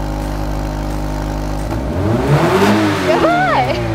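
A car fitted with an aftermarket valved muffler, valve open, idles with a deep steady rumble, then is revved and climbs and falls in pitch through a couple of strong pulls, close and loud, while a voice speaks briefly near the end.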